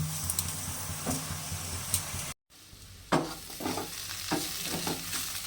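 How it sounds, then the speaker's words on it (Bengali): Chicken mince fries in a pan over low heat, with a continuous close sizzle and rhythmic scraping and stirring strokes, briefly cut to silence midway, then resuming with light utensil clinks. "দেখুন আমার চিকেন কিমাটা একদম ভাজা ভাজা হয়ে গেছে"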